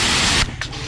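A Total 2000W high pressure washer sprays water in a loud, steady hissing burst that cuts off abruptly partway through, followed by a quieter mechanical hum with a brief second spurt.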